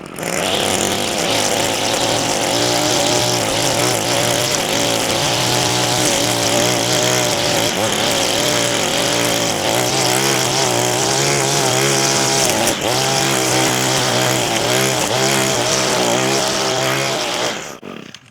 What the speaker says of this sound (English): hit it with that string trimmer again, because a lot of that stuff just laid down